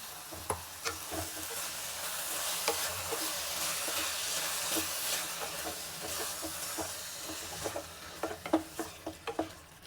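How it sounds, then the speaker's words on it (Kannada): A spoon stirring a mushroom biryani mixture in a hot pan, soft steady sizzling under repeated scraping clinks that grow sharper and quicker near the end. "ಇವಾಗ ಇದನ್ನು ನೀಟಾಗಿ ಮಿಕ್ಸ್ ಮಾಡ್ಕೊತಾ ಇದ್ದೀನಿ."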